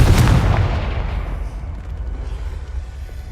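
Confringo fire spell explosion in the Hogwarts Legacy video game, a loud booming blast at the very start that rolls off into a long, rumbling fiery decay, alone without talk.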